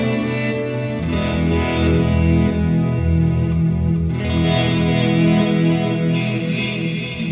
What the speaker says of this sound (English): the reverse block, which sounds like this